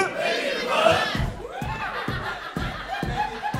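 A stand-up comedy audience chants together in rhythmic shouted bursts at a comedy show, loud and close, with laughter and cheering mixed into the repeated group chant.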